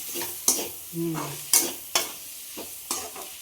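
Ivy gourd fry stirred in a pan, with a spatula scraping in several sharp, close strokes about every half second over a soft background sizzle.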